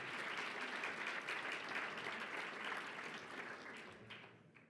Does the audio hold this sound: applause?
yes